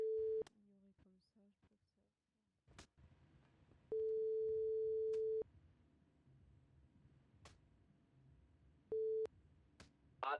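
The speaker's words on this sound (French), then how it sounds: "je vais appeler Jimmy, savoir où c'est" A phone call tone in a video game, steady electronic beeps with one long sustained tone and shorter ones, separated by quiet gaps with faint background noise and clicks.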